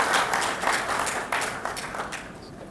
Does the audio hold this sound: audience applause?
yes